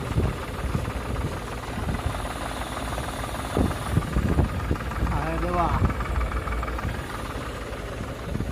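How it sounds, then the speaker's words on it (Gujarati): A Nataraj sprayer pump driven by a tractor, used for spraying pesticide on a crop, runs with a steady, loud mechanical engine drone throughout, with brief voices speaking over it. "આ છે નટરાજનો પંપ પ્રેશર આપણે રાખેલું હોય ચાલુ"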